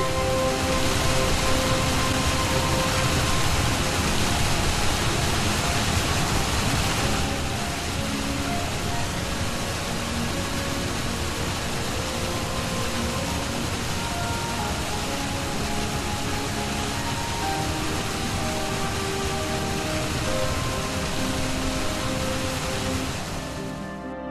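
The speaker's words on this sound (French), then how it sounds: "l'eau coule à pic en cascades étagées" Water plunges in tiered cascades over vertical basalt columns in Mauritius, making a dense, steady roaring rush that stays loud and unbroken from start to finish.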